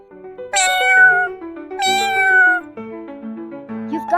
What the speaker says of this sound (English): What the cat says.